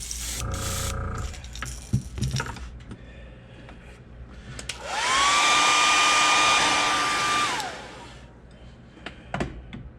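A heat gun heat-sets paint on a custom fishing lure, a steady whooshing whine with a clear tone that starts midway, holds for about three seconds, then drops back to quiet rustling and handling noises.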